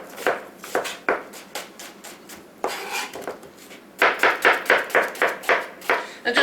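A knife on a cutting board dices red onion into small pieces in a kitchen, giving a quick series of crisp, close chops in short bursts with brief pauses between them.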